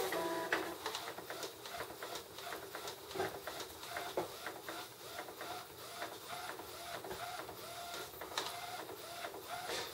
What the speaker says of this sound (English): Right, so I've sent a document to the printer.